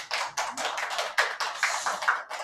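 A lecture audience gives a round of applause, steady overlapping claps at close range with no talking over them.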